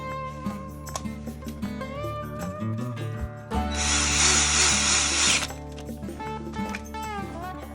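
A power screwdriver drives screws into a plastic MTM Case-Gard rifle rest during assembly, one short, loud whirring burst in the middle, with background music throughout.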